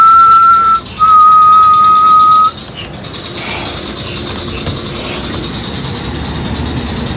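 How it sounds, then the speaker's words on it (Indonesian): Wind through a window in a Bali villa makes a steady high whistling tone that wavers for a couple of seconds over a constant rushing background, then drops away and leaves the steady airy rush. "Oh, jendela ini kayaknya yang bunyi"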